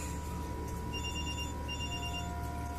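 A phone ringtone rings in two short electronic bursts over a steady background hum, fairly faint and with no talking.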